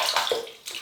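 Water splashes and runs over a shaving brush being soaked before lathering for a wet shave, a short close burst of pouring and trickling with no talk.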